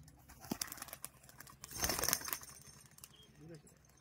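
Old-line Giribaj pigeons from Murshidabad coo softly near the end, after a brief rustling burst like flapping wings in the middle, while a person talks over the birds.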